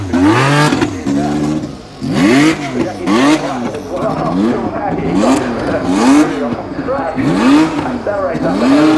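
A Formula 1 car accelerates hard up the Goodwood Festival of Speed 2019 hill, engine loud and close, rising in repeated gearshift sweeps with a commentator talking over it.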